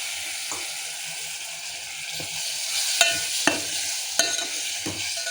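Cooked lentils go into a simmering spinach sambar and are stirred, with a soft bubbling sizzle and a few sharp spoon clinks against the pot.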